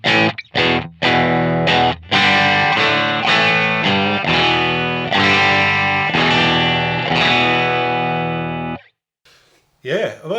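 Electric guitar played through a Line 6 HX Stomp using the 4x12 Hiwatt 100 cab model: loud, sustained distorted chords strummed after a few choppy stabs, then a sudden cutoff with a faint trailing noise.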